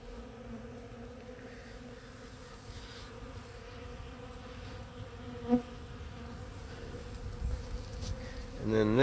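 Honeybees foraging for pollen buzz steadily close by, a continuous droning hum with a brief louder pass as one flies near the microphone.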